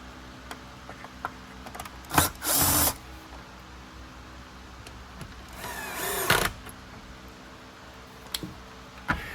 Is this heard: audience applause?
no